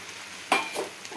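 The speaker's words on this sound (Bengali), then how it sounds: "আলুটা দিয়ে আমি এর মধ্যে সয়াবিনগুলোও দিয়ে দিচ্ছি।" Potato pieces and soya chunks dropped into a hot spiced pan, a sudden burst of sizzling that flares briefly and settles into a softer, close fry.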